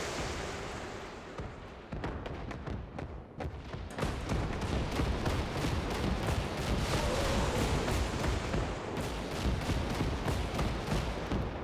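Machine gun and tank gunfire in Gates of Hell, a dense battlefield of rattling automatic bursts and sharp cannon cracks, sparse at first, then building into a constant, loud barrage of overlapping shots.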